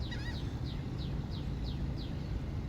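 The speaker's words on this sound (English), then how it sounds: "I hear a bird." A pelican repeats a short, high chirp about every third of a second, a faint steady series over a low background rumble.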